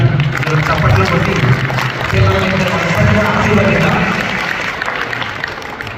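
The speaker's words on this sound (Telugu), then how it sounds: "గట్టిగా ఒకసారి చప్పట్లు కొట్టి" Parents and families at a Telugu-language school graduation ceremony break into loud, sustained applause, with crowd murmur and voices mixed into the clapping, which eases slightly toward the end.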